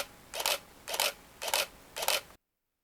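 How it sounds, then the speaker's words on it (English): A FujiFilm FinePix S2 Pro digital SLR fires its shutter four times at an even, unhurried pace, each release a short crisp mechanical snap, close and clear against near silence. "To me, that shutter sound is just all right."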